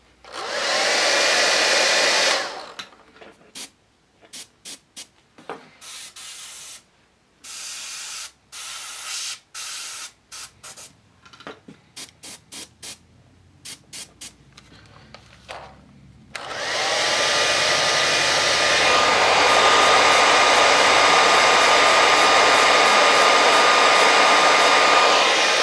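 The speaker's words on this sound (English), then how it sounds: "And then use the blow dryer." A blow dryer dries paint on a custom statue, its loud steady rushing airflow running at the start, cutting in and out in short bursts, then blowing continuously and close to the end.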